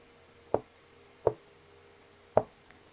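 Three soft knocks imitating someone tapping gently on a door, spaced unevenly and close by in a quiet room, with nothing else audible.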